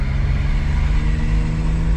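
A kei car engine drones steadily while driving in first gear, a close, even mid-pitched hum with no pauses.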